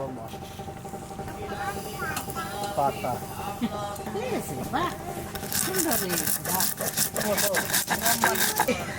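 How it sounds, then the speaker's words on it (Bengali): Green chilli and mustard are ground together into a paste for taro, a rhythmic rough scraping and rubbing that grows louder toward the end, with a person talking over it. "এবার বেটে নেবো কাঁচা লঙ্কা আর সর্ষে একসাথে"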